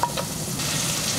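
Mushrooms and onions sauté in butter in a pan for soup, a close, even sizzle with a couple of faint clicks at the start and no voices.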